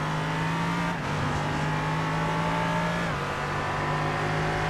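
LMP3 prototype race cars in an endurance racing video game drone past with a loud, steady engine roar, the pitch dipping slightly as one goes by, with no talk over it.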